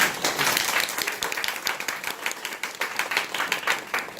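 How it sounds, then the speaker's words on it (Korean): Audience applause greeting a performer as he takes the stage, dense steady clapping throughout with no speech, fairly loud and sustained across the whole stretch. "뜨거운 박수로 맞이해주십시오."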